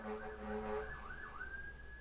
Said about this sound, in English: Sorry if you can hear the sirens happening in the background.